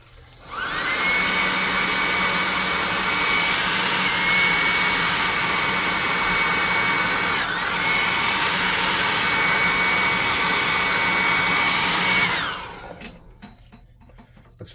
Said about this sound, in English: We're going to hit this with the hot air gun